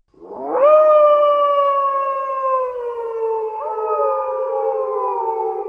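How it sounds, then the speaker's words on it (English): An AI-generated wolf howl at the moon rises sharply, then holds a long, loud, sustained tone that slowly falls and shifts pitch, with no other sound around it. "they even did a wolf howling at the moon"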